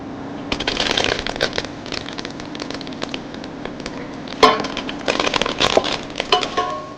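Curry leaves drop into hot oil with browned fenugreek while puliyodharai is being made, giving a steady crackling sizzle with sharper spits and pops, heard up close.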